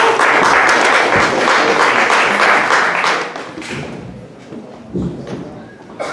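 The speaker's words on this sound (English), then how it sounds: "Round of applause, Mervyn!" A crowd at an evening music gathering applauds loudly for about three seconds, then the clapping thins and fades, leaving scattered claps, a thud and murmuring voices.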